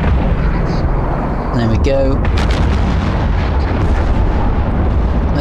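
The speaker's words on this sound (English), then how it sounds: "Oh, let's shoot that one, he's in range." Ship weapons fire in the video game EVE Online, a dense, constant roar of booming gunfire with a few sharper bursts, loud throughout; someone speaks briefly over it.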